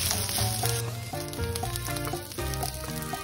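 Pork belly sizzles steadily in a hot pan, a loud continuous frying crackle with music playing over it throughout.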